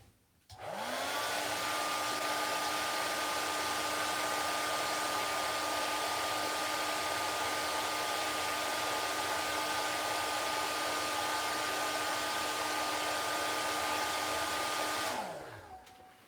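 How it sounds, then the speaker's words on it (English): A blow dryer heating a plastic 1:18 scale figure part switches on and runs at a steady, loud whirring hum for about fifteen seconds, then powers down. "All I use for that is just a blow dryer I have under my"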